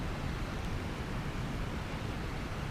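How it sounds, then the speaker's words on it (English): Strong wind blows through a forest campsite along the Ouachita Trail on a night hike, a steady rushing roar without gusts or voices, fairly faint and continuous throughout. "Very windy night."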